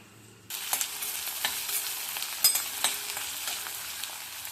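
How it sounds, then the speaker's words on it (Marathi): Onion frying in a pan breaks into a bright, crackling sizzle after a moment of quiet and keeps going steadily, with a few louder pops and stirring scrapes. "कांदा छान परतून घेऊया"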